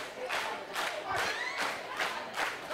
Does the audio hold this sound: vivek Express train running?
no